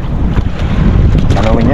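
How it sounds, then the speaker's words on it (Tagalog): Strong amihan monsoon wind blows at sea aboard a boat, a loud, steady, broadband rush with gusting surges and low rumble throughout, and no clear voices. "Talagang paramdam ng amihan eh, no?"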